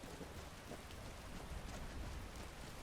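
Steady rain pours in Skyrim Special Edition, a dense, even hiss of drops on the ground with low rumbling underneath, continuous and fairly loud throughout with no voices.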